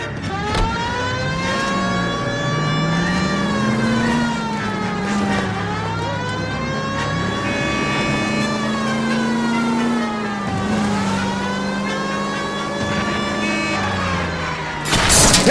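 Car engine in the crime video game L.A. Noire, a loud steady drone that rises and falls with acceleration and gear changes, heard alone with no talk.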